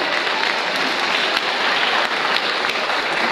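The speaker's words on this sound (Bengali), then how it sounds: "সবাই জোরে হাততালি হবে।" A school audience claps through a prize-giving for a February 21st event, dense steady applause filling the room with a few sharper claps standing out.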